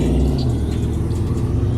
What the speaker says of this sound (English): Guys, there's CJ's Corvette.